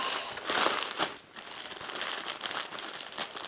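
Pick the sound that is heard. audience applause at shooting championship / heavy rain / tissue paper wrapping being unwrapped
tissue paper wrapping being unwrapped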